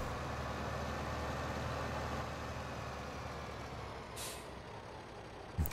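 Tractor in Farming Simulator 15 sliding sideways under hard braking with all wheels skidding: a steady loud engine-and-tire roar with a sharp air-brake hiss near the end.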